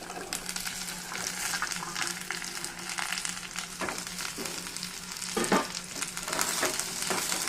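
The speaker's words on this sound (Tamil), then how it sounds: "வதங்கிடுச்சு, வெண்டைக்காய் போட்டுக்கலாம்" Okra sautéing with onion and garlic in a pan, a steady close sizzle and frying crackle with occasional stirring scrapes and clatters, no voices.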